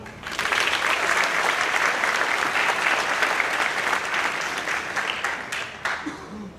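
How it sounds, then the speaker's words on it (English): Audience applause at a high school senior awards ceremony, a loud, dense round of clapping that holds steady for several seconds before thinning out near the end. "a quick round of applause for all of you"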